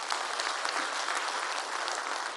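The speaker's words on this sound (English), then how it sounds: "But can the branch executive committees, the newly elected, also give themselves a nice round of applause?" A conference hall crowd gives a dense, even round of applause for newly elected party branch executive committees, steady clapping throughout with no break.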